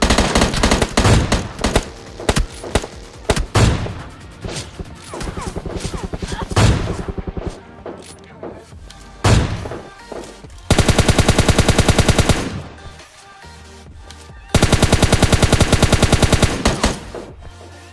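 Gunfire in the mobile game PUBG Mobile Lite: loud, rapid bursts of automatic weapon fire, some sustained for several seconds, separated by brief lulls.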